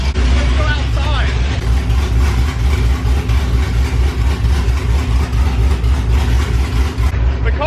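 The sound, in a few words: straight piped drag car engine idling, heard outside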